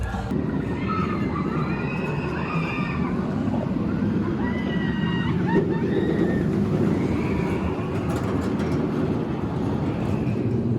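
The Wicked Cyclone RMC hybrid roller coaster train at Six Flags New England rumbles continuously along its track, a heavy roar threaded with high metallic squeals from the wheels.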